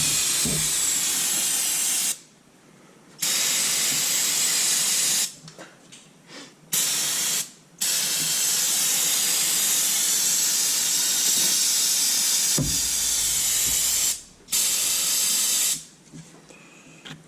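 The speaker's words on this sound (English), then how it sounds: "Nothing like a brand new can of brake cleaner." A brand new can of brake cleaner sprays in several long, forceful hissing bursts with short pauses between them, close and loud, during work on a 2016 Chevy Express 2500 van.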